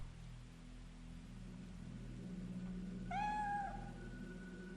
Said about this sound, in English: You finally get to see the cat.